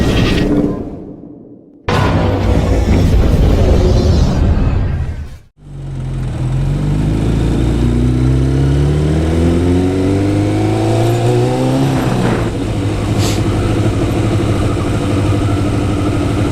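A motorcycle engine revs hard up close, cuts out abruptly, then roars back and settles into a loud, steady running note with rising and falling rev sweeps.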